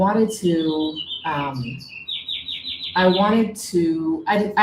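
Bright bird chirps and trilling calls ring out repeatedly in the background, clearly audible between and under a person speaking close by.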